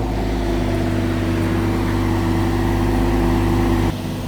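Kubota DC-105X rice combine harvester engine idling steadily with a deep, constant drone and mechanical hum, close and loud, dropping off abruptly near the end.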